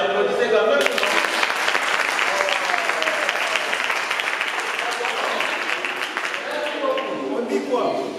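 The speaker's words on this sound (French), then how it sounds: "Alors, si vous avez aimé, applaudissez quand même." An audience at the end of a guided visit bursts into sustained applause, dense crowd clapping with a few voices mixed in, loud and close before it trails off.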